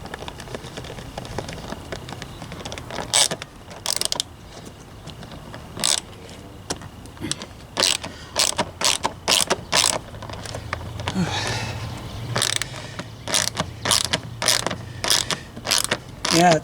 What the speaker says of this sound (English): Maybe it'll be alright once I start putting the screws in.